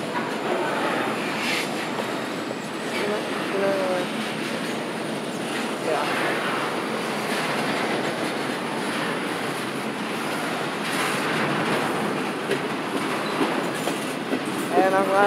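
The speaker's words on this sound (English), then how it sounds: "get a shot of this train crossing the bridge down there" A Norfolk Southern freight train rumbles steadily across a bridge with rhythmic clickety-clack and occasional wheel squeal, a continuous loud roar throughout.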